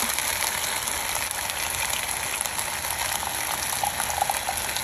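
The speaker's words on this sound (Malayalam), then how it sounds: "തേങ്ങാപ്പാൽ ഒഴിക്കുന്നത് കേട്ടോ" Coconut milk poured into a pot of simmering beef rendang from Sumatra, giving a steady, close bubbling and liquid rush that holds evenly throughout with no talk.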